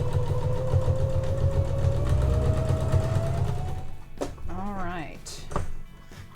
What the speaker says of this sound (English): So I'm just going to lower my needle and we will just stitch along this edge and do this for both sides